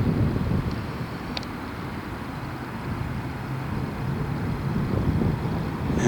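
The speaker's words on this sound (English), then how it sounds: "There's the flag blowing in the wind." Steady wind buffets a Sony Handycam HDR-XR150 camcorder microphone outdoors near memorial monuments with a flag, a continuous low rumbling roar filling the clip with no one talking.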